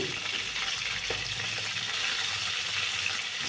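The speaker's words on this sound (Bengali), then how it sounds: "তেল গরম হয়ে গেছে এবার একে একে মাছগুলোকে ছেড়ে দিচ্ছি" Silver carp pieces fry in hot oil with a continuous, even sizzle, moderately loud and alone, with no voices over it.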